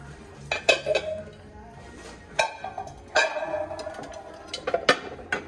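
Ceramic plates and dishes clink sharply as they are picked up and set down, several scattered knocks with quiet gaps between them.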